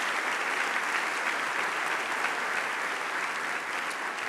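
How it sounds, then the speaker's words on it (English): Audience at the Oregon Sports Awards gives another round of applause for the honored teams, a steady, continuous wash of clapping from a large crowd, moderately distant and even. "how about one more round of applause for all of our teams?"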